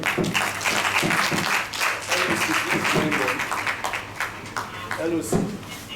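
A conference audience at an engineering science educators' gathering in Nigeria applauds, a continuous patter of clapping throughout, with a voice speaking over it at times.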